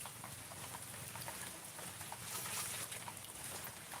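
Steady rain falls on a farm as a continuous broadband hiss with dense patter, constant and fairly close throughout, with no voices.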